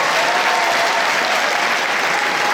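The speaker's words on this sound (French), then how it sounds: "Applaudissez." An audience in the Le Grand Rex cinema hall claps at a film premiere, producing a dense, loud, unbroken wash of applause that holds steady throughout.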